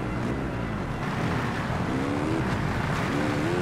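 Motocross bike engine in the MXGP video game, a dense continuous motor drone with rising revs, loud and close, no speech.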